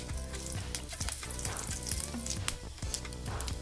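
Mustard seeds and cumin sizzle and crackle in hot oil in a pan while capsicum gravy is being made, a close, steady frying hiss with scattered sharper pops and no talking.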